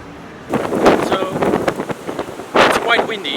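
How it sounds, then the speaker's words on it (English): Gusty wind buffets a microphone outdoors in Japan during typhoon season, a steady low rumble that swells into louder bursts near the start and again toward the end, with no clear talk over it. "it's quite windy."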